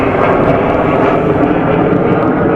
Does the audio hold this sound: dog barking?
no